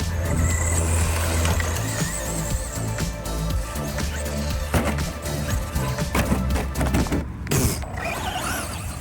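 Traxxas Slash BL-2S two-wheel-drive brushless RC short course truck tearing across grass, its motor whine rising and falling with steady broadband rumble and rattling chassis noise throughout, close and loud.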